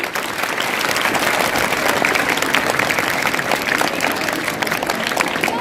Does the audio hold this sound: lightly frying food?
no